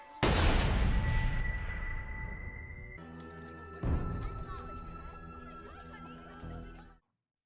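A single sharp sniper gunshot cracks out loudly and rings off, followed by a softer second report under a sustained tonal hum.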